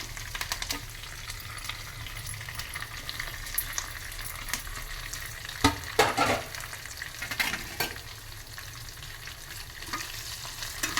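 Mustard seeds, curry leaves and garlic cloves crackle and sizzle in hot oil for tempering, stirred with a few sharp scraping clatters against the pan; close, continuous, with no voices.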